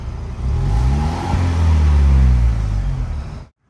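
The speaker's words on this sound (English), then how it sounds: "Here is what the stock Bronco exhaust sounds like." A 2021 Ford Bronco 2.3L with stock exhaust gives a deep engine rumble that swells as the throttle is pressed twice, a throaty rev rising and falling before cutting off abruptly.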